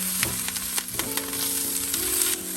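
Onions, green chilies and curry leaves fry in a hot pan, giving a steady close sizzle with small crackling pops throughout and no talking.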